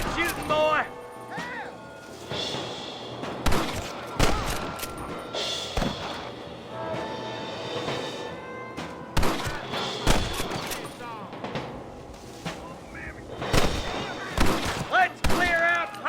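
Gunfire in the Western shooter Red Dead Redemption, with sharp irregular shots and bursts cracking loud and close amid game music and effects, plus brief voices speaking between volleys.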